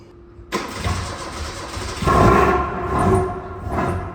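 A Tofaş car engine with a burst fuel hose cranks and catches, then revs up loudly and settles into a rough idle, close by with no talking.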